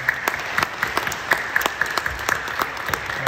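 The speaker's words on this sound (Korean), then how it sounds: "여러분들 축복하며 뜨겁게 박수 주시기 바랍니다." A church congregation claps at a moderate level, a steady patter of hands with scattered sharper individual claps standing out.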